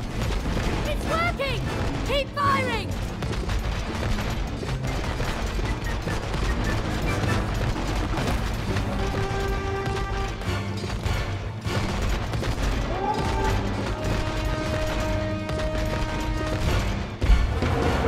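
Gunfire in It Takes Two, the characters shooting their way out of a whirlpool: rapid bursts of shots and mechanical clanks amid busy game music and effects, with voices talking over it.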